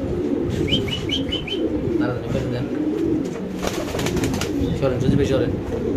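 Fancy pigeons in a loft or market pen give low, throaty coos in repeated bouts, with a few brief higher chirps mixed in over steady background bustle while someone talks nearby.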